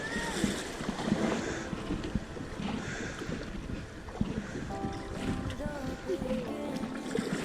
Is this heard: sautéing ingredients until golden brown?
no